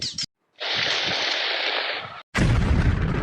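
Firecrackers burst in a loud, dense crackling roar that runs for over a second, cuts out briefly, then erupts again close by.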